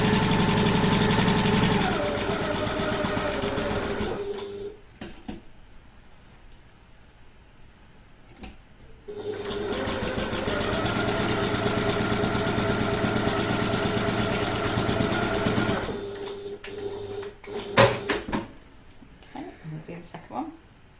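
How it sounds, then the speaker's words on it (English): A sewing machine stitches a handbag in two long, steady whirring runs separated by a pause for pivoting, close and fairly loud, with softer clicks and handling sounds at the end. "lift my presser foot and pivot and sew back down again and back stitch again at the bottom"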